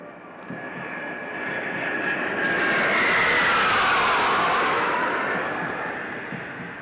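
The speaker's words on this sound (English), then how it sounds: "you can see the Su-30 aircrafts approaching the parade ground" Su-30 fighter jets pass over a military academy passing-out parade ground, a broad roaring jet rumble swelling to a loud peak overhead and then slowly fading, with no voices.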